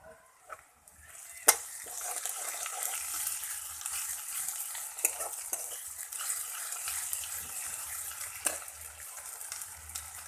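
Onions fried until red with a spoonful of ginger-garlic paste, stirred in a pan for a chickpea lentil dish: a quiet, continuous sizzle with a spoon scraping and a few sharp clinks against the pan.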